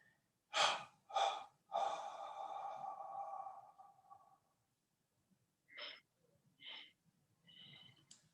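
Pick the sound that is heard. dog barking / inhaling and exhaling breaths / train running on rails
inhaling and exhaling breaths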